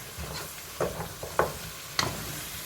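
Red pepper powder stirred and sautéed in a pan for a chickpea dish, with a soft steady sizzle and a few scraping stirs of the spoon, heard close with no talk.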